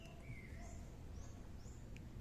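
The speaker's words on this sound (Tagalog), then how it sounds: "Ang naririnig lang natin dito yung huni ng mga ibon" Faint bird chirps and whistled calls drift in from a distance, a few scattered notes over steady low background noise.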